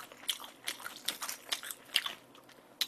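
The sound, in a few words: biting and chewing Pizza Hut pizza dough with salsa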